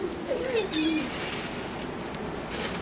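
Birds being fed outdoors in Florida, with a few soft pigeon coos and faint chirps in the first second over steady outdoor background noise, then quieter ambience.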